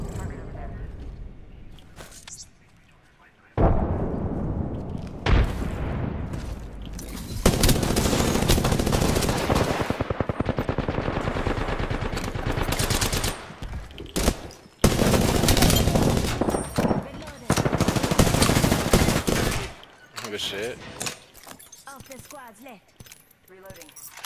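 Rapid gunfire bursts in Apex Legends, loud automatic volleys in several clusters separated by short pauses, with players talking over the action.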